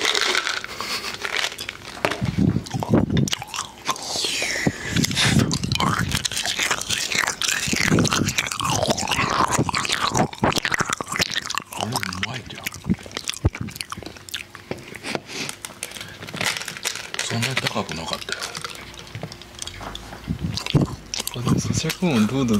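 Kohakutou crystal candy is bitten and chewed close to the microphone, giving crisp crunches and squishy chewing textures, with two people talking throughout.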